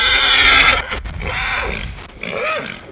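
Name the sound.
quarter horse whinnying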